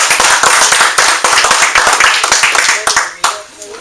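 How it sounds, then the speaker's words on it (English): An audience at a monthly mastermind gathering applauds an introducer with loud, close, dense clapping, sharp individual claps over a continuous patter, while voices talk over it. "Give Lynn a big round of applause."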